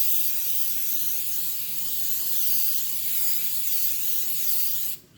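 Steady aerosol cooking spray hissing into a 13x9 cake pan for about five seconds, continuous and close, stopping abruptly at the end.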